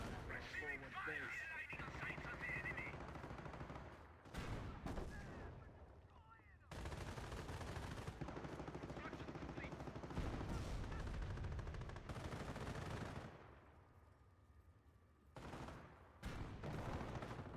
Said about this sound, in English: the MP41's shooting